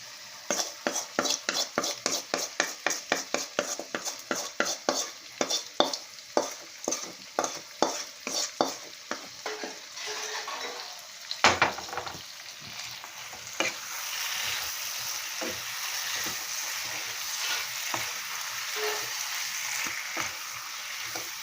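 Rapid rhythmic scraping and clinking of a spoon stirring country chicken curry in a pan, followed by steady frying sizzle as the stirring slows.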